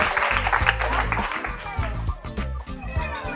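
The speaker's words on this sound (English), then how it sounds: "Clap for him." A church audience claps for a Reverend Father, giving a brief burst of rapid, close applause that mixes with speech.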